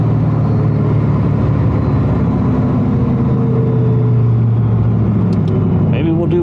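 2002 Camaro SS with 3.90 gears accelerating hard in a 0-60 run: a loud, steady engine drone rises gradually in pitch for several seconds, heard from inside the car, with a short sharp noise near the end.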